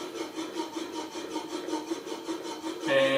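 A PM-V11 steel plane blade held in a Veritas honing guide rubs back and forth on a diamond sharpening stone, a steady rhythmic gritty scraping heard up close, with no talking.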